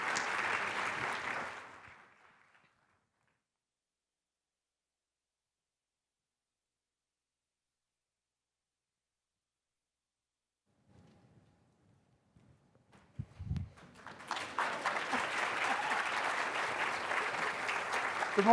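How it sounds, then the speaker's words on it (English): An audience at a social media ROI panel applauding as the panelists come up on stage. There is a short burst of clapping, then a long silence, then loud sustained applause that returns and holds to the end. "can we give them a big round of applause to get them up on stage?"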